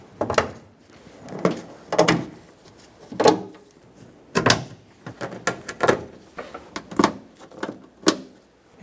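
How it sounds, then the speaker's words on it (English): Plastic push clips on a Ford E-350 rear passenger door panel snap into place in a close, irregular run of sharp thumps and clicks, about a dozen spread over nine seconds, with no talking. "Take that door panel, line it up, and push in all the push clips to secure it."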